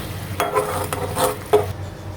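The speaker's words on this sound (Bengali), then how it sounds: "এবার ক্যারামেলের লাল কালার না আসা পর্যন্ত এটাকে অনবরত নাড়াচাড়া করতে হবে।" Sugar and water caramel for rice-cooker pudding is stirred nonstop in a pan, with several rhythmic scraping strokes over a soft bubbling sizzle, close and fairly loud.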